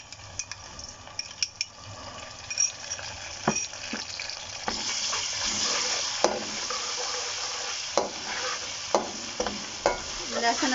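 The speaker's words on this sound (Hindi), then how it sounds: "प्याज ब्राउन हो गए हैं, इसमें अब मैं लहसुन अदरक का पेस्ट डाल दूँगी।" Garlic ginger paste frying with browned onions in hot oil for chicken biryani, a steady close sizzle with repeated scraping stirs and light clinks of a spoon against the pan, no talking.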